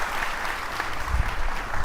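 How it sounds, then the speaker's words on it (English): Audience applause for a panel on an event's Impact Stage, a brief steady wash of many hands clapping at close, even loudness throughout. "Please give them a warm applause."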